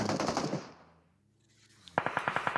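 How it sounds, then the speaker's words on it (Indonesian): Automatic gunfire in PUBG Mobile during a PMGC 2024 esports match: a rapid burst of loud shots, a fading tail, then another sharp burst of evenly spaced rounds. "Kita melihat bagaimana tembakan bisa dilakukan oleh keduanya"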